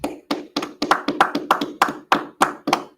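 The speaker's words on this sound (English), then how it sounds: "Hey, clap it up, y'all." A church class audience claps in a quick, fairly even rhythm, about a dozen sharp claps close by with no talking.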